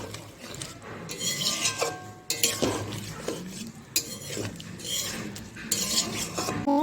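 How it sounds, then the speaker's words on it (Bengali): A spoon scrapes and clinks steadily against a pan while vegetarian kohlrabi curry with softened tomato is stirred, a close, repeated rasping with metallic taps and a few brief pauses. "এবার তরকারিটার মধ্যে মিশিয়ে নেব ভালো করে।"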